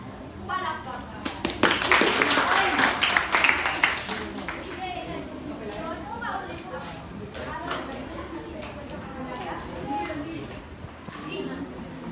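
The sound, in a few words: applause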